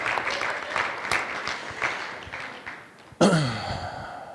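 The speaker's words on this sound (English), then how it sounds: "Give Becca a round of applause" Audience at a hypnosis stage show gives a round of applause, a dense patter of claps fading slightly, then cut off by a sudden close voice or sharp sound near the end.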